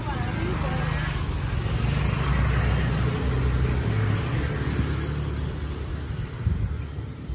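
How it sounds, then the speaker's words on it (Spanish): Busy street traffic in Denpasar, Bali: a continuous close rumble of cars and motorbikes passing, with engines droning and swelling in a steady wash of noise. "con este tráfico no sé cómo voy a pasar a la calle de enfrente"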